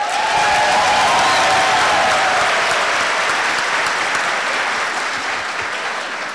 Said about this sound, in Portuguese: Toninho, você nunca foi tão aplaudido, nem você, hein, Carlinhos?